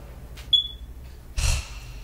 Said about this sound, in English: the dreaded chirping of a dead smoke alarm